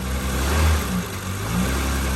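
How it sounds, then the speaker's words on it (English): A car engine held in drive with the left foot on the brake while the gas is blipped, rising and falling in low revs a couple of times, close and fairly loud with no talk. "having our left foot on the brake and giving it a little bit of gas"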